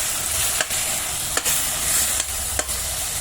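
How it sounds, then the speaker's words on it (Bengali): Poppy seed and mustard paste sizzles steadily in a pan, with a few distinct spoon-scraping stirs breaking through the constant frying hiss; no voices. "পোস্ত আর সর্ষে বাটা। একটু ভালো করে কষিয়ে নেব।"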